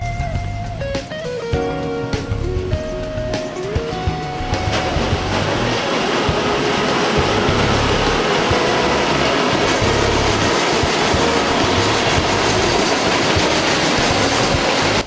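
A passing train roars loudly and close for the whole stretch, with a tonal horn-like blast at the start and then a dense rumble with clattering wheels that never lets up.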